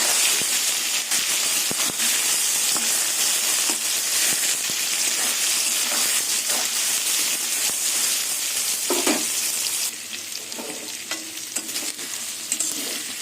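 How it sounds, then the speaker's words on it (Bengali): Soybean chunks frying in hot oil in a kadai that had started sticking, a strong continuous sizzle and hiss with frequent clinks and scrapes of stirring, easing somewhat near the end. "এবার সোয়াবিনগুলো লাল লাল করে ভেজে নেবো"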